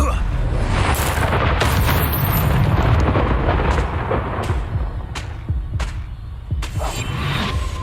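Confringo explosive curse blasts in Hogwarts Legacy, loud booming bursts layered over continuous rumbling game noise with sharp repeated cracks later on, and a voice calls out at times.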